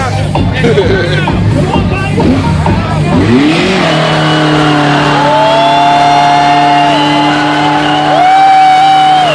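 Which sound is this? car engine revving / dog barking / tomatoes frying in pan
car engine revving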